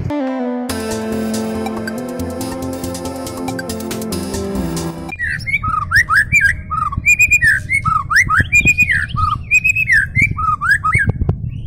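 A white-rumped shama (murai batu) sings a rich, varied run of whistled phrases and chirps, close and loud, following a few seconds of sustained tonal music.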